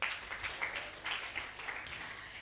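Quiet scattered clapping from a small university audience, fairly distant and uneven, continuing for a couple of seconds.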